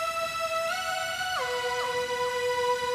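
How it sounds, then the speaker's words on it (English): A bright synth lead from the Massive X patch Balloon Time plays a short melodic line alone, its notes gliding smoothly up and down between pitches over a sustained, buzzy tone. "So I started out with a patch in Massive X called Balloon Time."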